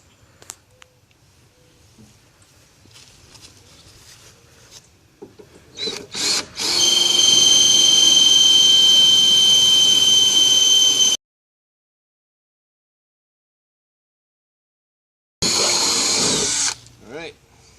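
A power drill bores a hole through metal for a trailer hitch, starting with a few short bursts before a loud, steady whine of about four seconds, then silence and another brief run.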